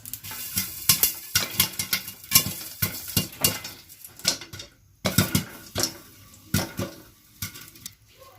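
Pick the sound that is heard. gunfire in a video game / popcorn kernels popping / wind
popcorn kernels popping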